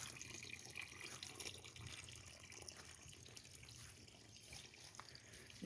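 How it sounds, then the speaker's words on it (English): Garden fountains run steadily outdoors on a calm day, a continuous soft splash and trickle of falling water that stays even and moderately faint throughout, with no talking. "Got my fountains going today."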